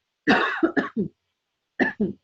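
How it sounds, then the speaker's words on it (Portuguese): A single person coughs several times close up: one longer rough cough, then a few short ones, a pause, and two more. "desculpa aqui a tosse"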